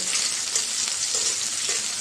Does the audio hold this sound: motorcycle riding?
no